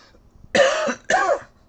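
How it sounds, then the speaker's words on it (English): A person coughs twice in quick succession, two harsh, rasping bursts close to the microphone, each lasting about a third of a second, with quiet between them and no talking. "Man, that really hurts every time I cough."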